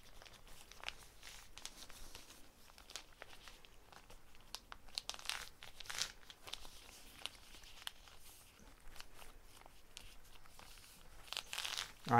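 Sheets of paper being folded by hand into a temporary sword scabbard give off quiet, irregular crinkles and crisp creasing rustles close by, with a sharper paper crunch right at the end.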